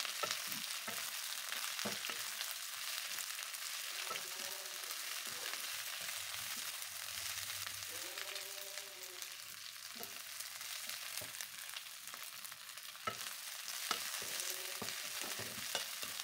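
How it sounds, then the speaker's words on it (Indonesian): Mustard greens, spring onion and cabbage being stir-fried in a pan give a soft, continuous sizzle broken by scraping stirs and light spatula knocks, fairly quiet and without speech. "Lalu masukkan sayurannya, sawi, daun bawang, dan kubis atau kol. Tumis sampai layu."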